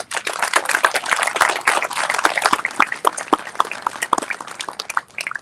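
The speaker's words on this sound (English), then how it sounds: "want to give them one last round of applause" An audience at a district state-of-the-district event gives a loud, sustained round of applause, dense overlapping clapping that thins out toward the end.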